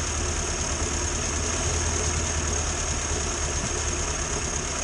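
A 1962 Morris Minor engine with coil problems runs rough and misfiring, a steady, uneven idle-like drone heard close up with a hissy wash over it and no speech.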